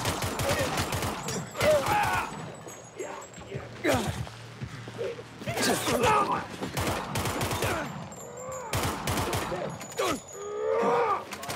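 Gunfire in the video game Dying Light 2, bursts of shots and rapid fusillades recurring through the clip, loud and close, mixed with game effects, with a player talking over it.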